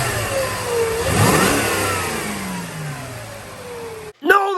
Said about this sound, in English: No, that's not a supercharger underneath there. That's not the Kool-Aid man underneath there making that purry whine. It's a bad alternator.